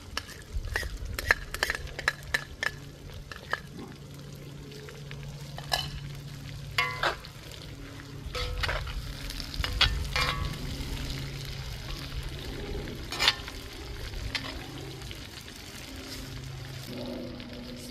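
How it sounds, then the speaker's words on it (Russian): Garlic and bell pepper fry in a pan over outdoor coals for a chicken stew, with a steady low sizzle broken by repeated scraping and clinking of a utensil stirring against the pan. No one speaks. "Пожарим вместе минуты две. Вот так помешивая."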